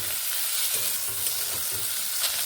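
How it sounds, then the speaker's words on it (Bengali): Fennel seeds sizzle and crackle in a hot pan, a bright steady frying hiss with soft scraping stirs underneath, close and uninterrupted. "মৌরি আমি এভাবে ভেজে নিচ্ছি"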